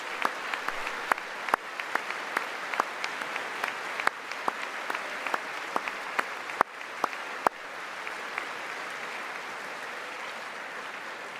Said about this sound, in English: Oh, look, Nancy's actually applauding.